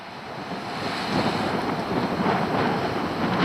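Steady roar of surf washing onshore at a Mediterranean beach in rainy weather, broad and continuous, mixed with heavy wind buffeting the microphone; no voices.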